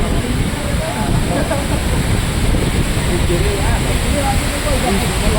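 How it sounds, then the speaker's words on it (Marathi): Heavy monsoon rain pours down steadily in stormy wind, a dense continuous wash of noise that stays loud and even throughout. "पाऊस पडतोय"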